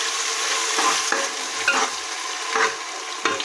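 Onions frying in a pan are mixed with a utensil, and several scraping strokes scrape against the pan over a continuous bright sizzle heard up close.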